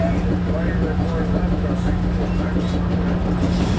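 Steady rumble and rattle of a passenger train riding along the track, a continuous close drone with a low hum running through it and talk faintly underneath.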